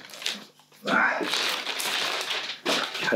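An airsoft FAMAS F1 gas blowback rifle is drawn out of a plastic bag, giving close crinkling and rustling bursts with a short pause between them.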